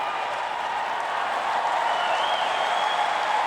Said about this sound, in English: And Sam, the crowd playing such a big role.